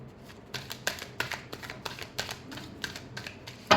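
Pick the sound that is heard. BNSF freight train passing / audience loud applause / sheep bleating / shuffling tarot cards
shuffling tarot cards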